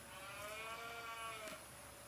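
An Ayrshire cow in Farming Simulator 19 gives a single drawn-out moo at moderate distance over a quiet farm backdrop, with a faint click or two.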